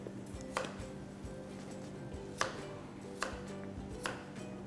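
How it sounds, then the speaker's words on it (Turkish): Knife chopping ingredients for a Turkish rolled cake on a cutting board, a handful of sharp, well-spaced thunks over a low steady kitchen hum, close and moderately loud. "Hepsini bu şekilde doğruyorum değil mi?"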